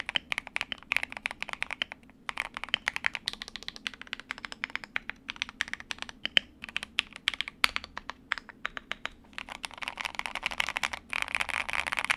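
Continuous fast typing on an Akko Mod 007 custom mechanical keyboard with an FR4 plate and dense case foam, rapid muted clacks and thocks, close and steady for twelve seconds.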